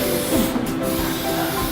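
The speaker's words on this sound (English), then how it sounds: "Your first step is to spray the griddle." Cooking spray hissing onto a griddle before tater tots are added, a steady close spray lasting nearly two seconds.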